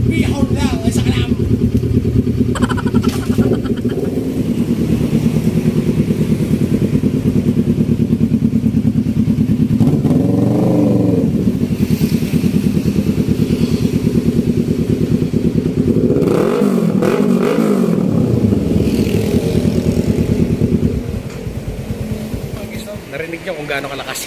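A Kawasaki Ninja 650 motorcycle engine runs close by, holding a steady idle broken by a couple of brief throttle blips that rise and fall.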